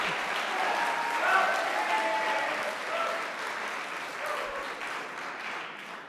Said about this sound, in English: Very lively and excited crowd.